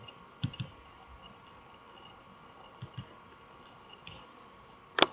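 A computer mouse clicks a few times, sparse and close, a double click near the start, single clicks later and a sharper click at the end, over a quiet room hum with no talking.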